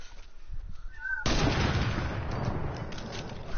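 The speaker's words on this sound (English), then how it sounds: "I'm shooting in the air right now" Gunfire in a shooter video game fired into the air. A quiet opening gives way to a sudden dense burst of rapid shots that stays loud to the end, with a few faint voices beneath.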